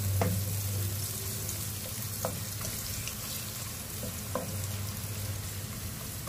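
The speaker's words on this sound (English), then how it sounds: "Then let's put the onions. I use the red one. Continue stirring still." Red onions fry in a pan while being stirred, a continuous close sizzle broken by occasional scraping clicks of the utensil and a low steady hum underneath, no talking.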